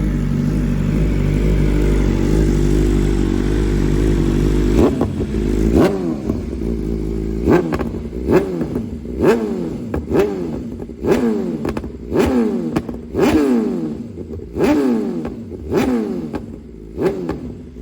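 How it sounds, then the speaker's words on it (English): A BMW M1000RR motorcycle idles with a steady low exhaust rumble, then takes a long series of sharp, loud throttle blips, each rising and falling quickly in a regular rhythm, close to the bike. "I'll give you guys some revs too."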